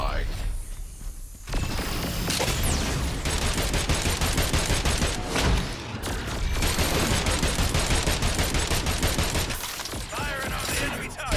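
Gunfire in Agents of Mayhem, heavy and nearly continuous bursts of shooting with crashes and impacts mixed in. Character voices speak over the fighting.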